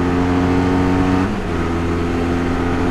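A motorcycle engine revving up under acceleration, a loud steady drone with a shift in pitch around the middle as the revs change, close and alone without talk.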